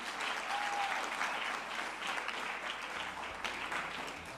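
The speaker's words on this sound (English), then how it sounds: "Let's give them a warm round of applause, ladies and gentlemen." Warm audience applause at a conference dialogue after a men's choir performance, steady crowd clapping heard at a distance, continuous throughout with a low hum underneath.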